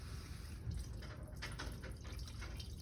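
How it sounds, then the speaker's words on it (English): Hot melted beeswax poured slowly in a thin stream, giving a soft continuous liquid trickle with a few light drips, close and fairly quiet. "And then you'll just want to slowly pour."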